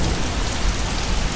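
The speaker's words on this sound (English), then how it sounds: "it's coming down like cats and dogs" Heavy rain pours down in a dense, continuous downpour, loud and close with a steady wash of drops and no pauses, no voices over it.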